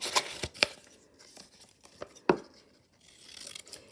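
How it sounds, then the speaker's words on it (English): Scissors snip through paper along dotted lines to cut out shapes, a few sharp close cuts spaced irregularly with soft paper rustling between them. "just start cutting out all of those shapes. And make sure you cut on all the dotted lines."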